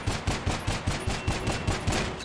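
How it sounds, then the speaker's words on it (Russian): Ceramic pistol firing in GTA Online, a quick steady run of about ten sharp shots at an even fast rhythm, loud and close with no talking. "можно еще услышать, что керамический пистолет стреляет быстрее"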